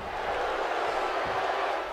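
Steady roar of a large wrestling arena crowd in WWE 2K18, a dense, unbroken wash of cheering that holds at an even level throughout.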